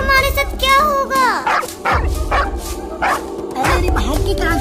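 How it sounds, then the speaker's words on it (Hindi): A cartoon dog chasing kittens lets out a run of barks and yips, heard between animated voices over a continuous background score. "ये कुत्ता हमारे पीछे पड़ा हुआ है।"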